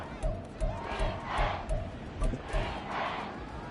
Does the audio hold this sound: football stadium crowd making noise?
yes